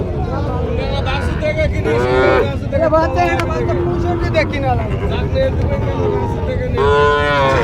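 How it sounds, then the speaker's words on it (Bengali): Several cattle, including Sahiwal bulls, moo loudly and repeatedly over a busy crowd murmur at a cattle market, with voices talking throughout. "চারোদিকে শুধু গরুর মেলা"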